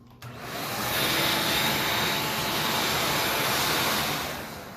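A wet/dry shop vacuum roars loudly and steadily after a quick start, its hose clamped around a digital printer's color drum to suck off toner, with no voices over the continuous whoosh.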